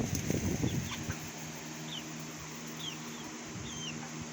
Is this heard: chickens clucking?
yes